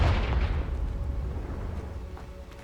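A Confringo explosion spell bursts in Hogwarts Legacy, a loud booming blast with a heavy low rumble right at the start that decays over a couple of seconds, with no voices.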